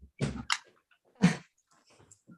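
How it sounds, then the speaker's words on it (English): A dog indoors in a household gives two short, loud barks about a second apart, followed by faint rustling in an otherwise quiet room. "now I have a barking dog"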